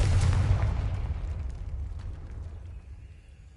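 A booming magical explosion from the Confringo spell in the video game Hogwarts Legacy bursts loudly at the start, then rumbles and crackles as it slowly fades away.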